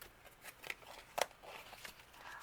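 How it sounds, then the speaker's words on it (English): Tarot cards are shuffled by hand up close, giving soft papery rustles and a few quick sharper snaps, fairly quiet, with no speech. "as I'm shuffling the cards"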